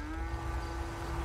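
A single cow lets out a drawn, steady low moo, fairly faint and held for its whole short length.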